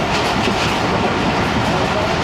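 A train rolls through a small working railway station, a steady loud rumble of wheels and carriages filling the whole stretch without pause, close by.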